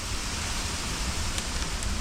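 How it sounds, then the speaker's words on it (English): Rain falls outdoors on a wet day during maple syrup boiling, a steady broadband hiss with soft patter that stays even and close throughout. "It's a rainy, crappy day out there."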